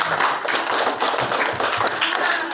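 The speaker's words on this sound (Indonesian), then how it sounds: "Beri tepuk tangan dulu Bapak Ibu untuk Pak Mahfud." Audience at an Indonesian teachers' physical education (PJOK) training session claps for a speaker named Pak Mahfud, with steady dense clapping throughout from a room of hands, fairly loud and close.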